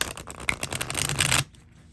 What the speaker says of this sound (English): Okay, so I don't know why I'm shuffling it.